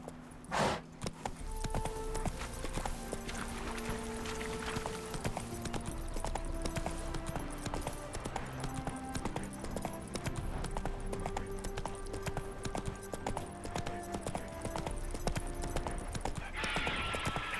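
Hooves of the horse in The Witcher 3 clip-clopping in a rapid, even rhythm throughout, with a brief snort or whinny near the start and game music under the steady hoofbeats.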